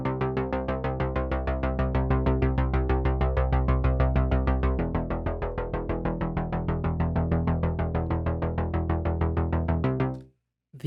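Synthwave bass synth with most of the sub low end and some top end filtered away, pumping steady 16th notes in an even, driving rhythm for about ten seconds before stopping abruptly.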